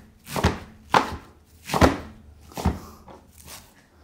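A bundle of spinach is roughly chopped with a knife: five distinct, fairly loud thuds at an uneven, unhurried pace, close up, with quiet gaps between strokes and no talk.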